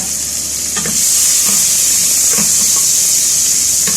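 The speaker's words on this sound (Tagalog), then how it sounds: "So, igigisa ko siya." Onions and mushrooms sizzle with chicken in a hot pan, a constant bright frying hiss broken by a few soft stirring scrapes, close and with no talking.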